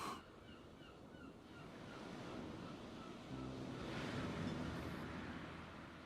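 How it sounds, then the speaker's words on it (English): Ocean surf crashes against a narrow point of crumbling rock, a steady hollow roar of breaking waves that swells louder in the second half, with no voices. "There was only the crash of the waves"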